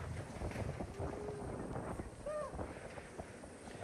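Strong wind from Super Typhoon Uwan in Albay buffets the microphone in low, rumbling gusts, fairly faint overall, with a few brief high tones drifting over the roar.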